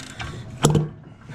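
A Suzuki RM80 two-stroke engine with a 135cc race build is turned over by hand with a socket on the front sprocket, giving a brief mechanical clunk and ratcheting click against compression, close and fairly quiet.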